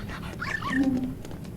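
A dog in a video game gives a short whining yelp and whimper, a brief high cry over quiet game background, with no talking.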